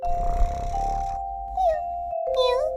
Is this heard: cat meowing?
yes